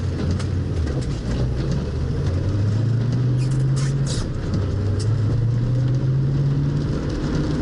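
A cold-running 1966 Ford Mustang engine driving along, heard from inside as a loud, steady low rumble with rising and falling engine tones and road noise, continuous with no talk.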